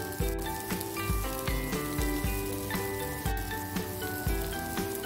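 Tempeh frying in a little oil sizzles steadily and close up while a utensil stirs it, giving regular scraping knocks against the pan.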